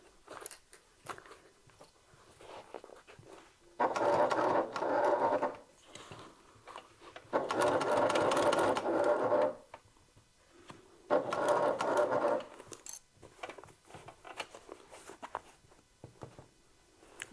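A sewing machine stitching a top handle bag runs in three bursts of a few seconds each, a steady buzzing whir between quiet handling noises and clip rustles.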